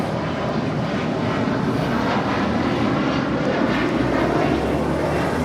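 Loud, sustained roar of an airplane landing on runway 25 left at Los Angeles International Airport, a dense continuous engine and airflow rush with no voices over it.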